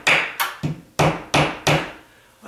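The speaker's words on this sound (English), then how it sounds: "So theory has it, when I put this nail in" Hammer blows driving a nail into a wooden ceiling joist while installing a pancake box for a ceiling fan, five sharp, fairly close strikes in an uneven rhythm with a short ring after each, then a gap and a sixth hit starting.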